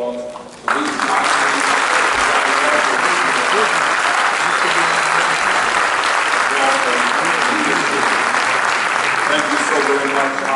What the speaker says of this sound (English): let me ask all of you to join with me in giving a thunderous round of applause to these guys